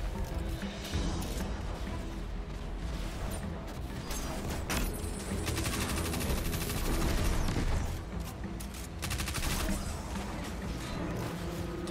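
Rapid gunfire from a super weapon in the video game Destiny 2, a dense burst of loud sharp shots and crashing impacts filling the whole stretch, with no talk over it.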